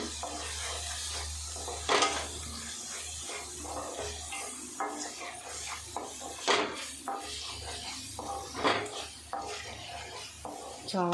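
Chopped onions sizzling in a hot pan while being stirred, with a continuous soft hiss broken by several sharp scraping strokes of the spoon against the pan.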